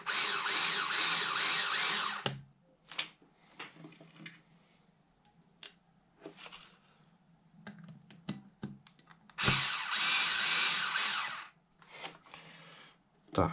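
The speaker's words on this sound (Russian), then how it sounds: "а далее уже можно устанавливать обычные винты" Power driver spinning screws in while water cooling blocks are assembled, two long loud whirring bursts separated by quiet stretches of small clicks and handling taps.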